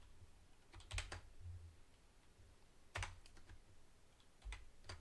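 Keystrokes on a computer keyboard entering a permutation expression into the Desmos graphing calculator, coming in quick clustered bursts of clicks separated by short pauses, fairly close and alone with no voices.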